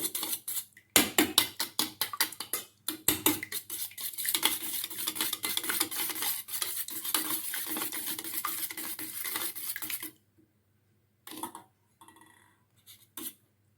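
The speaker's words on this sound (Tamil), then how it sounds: "முட்டை வந்து நல்லா கலந்து விட்டுக்கலாங்க." Two eggs cracked into a bowl and beaten quickly with a utensil, making a dense run of rapid clinking strokes for about ten seconds, then a few scattered taps before the mixing stops.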